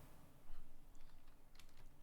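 Soft clicking of typing on a computer keyboard, a quiet, irregular run of keystrokes with a few sharper taps toward the end.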